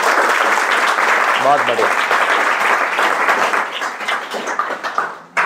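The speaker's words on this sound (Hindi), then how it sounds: "बजाओ छोरी के लिए तालियां" A classroom claps for a girl student who solved a physics problem on spherical mirrors. The lively, fairly close applause carries a teacher's voice speaking over it and thins toward the end.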